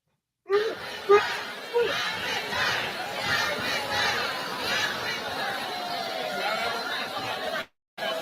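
A live audience cheers and chatters without a break for about seven seconds. The crowd noise sounds dense and fairly close, with a few whoops at the start and a pause near the end.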